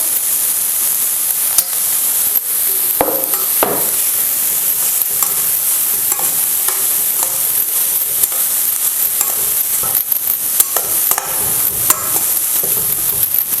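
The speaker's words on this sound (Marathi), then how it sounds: "तर आता आपण ह्यामध्ये सगळे गाजर घालूया आणि चांगलंच आपल्याला हे तुपामध्ये आहे ना आपल्याला हे गाजर परतून घ्यायचं।" Grated carrots being sautéed in melted ghee for carrot halwa, a bright continuous sizzle with intermittent stirring scrapes and soft clatters of the spoon, close and loud with no one talking.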